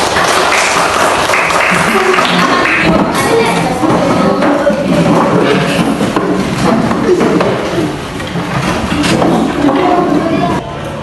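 A classroom of students clapping together during a teaching session, loud and continuous with some thumping beats and voices mixed in, dipping briefly before carrying on.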